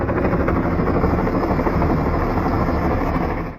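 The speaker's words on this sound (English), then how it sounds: "A helicopter appeared to be floating in the sky, but its blades weren't moving at all." Helicopter heard overhead on a clear day above a street, a loud steady rotor and engine roar sustained throughout, fading slightly at the end.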